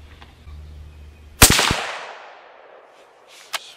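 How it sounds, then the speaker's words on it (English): A Remington 700 ADL rifle fires a single .223 FMJ round outdoors: one sharp, loud crack, then a decaying echo rolling away for about a second, and a faint click shortly after. "Shot number three with the FMJs."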